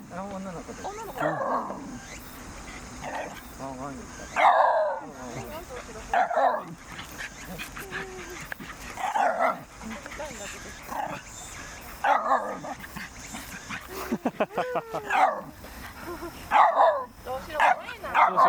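A female Shiba Inu, about three years old, barks in short repeated bursts and yips during an encounter with another Shiba Inu, close by and interleaved with people talking and calling out.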